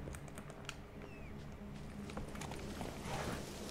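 Hooves of Roach, the horse in The Witcher 3: Wild Hunt, clip-clopping in a quick, even rhythm at low volume, alone without talk.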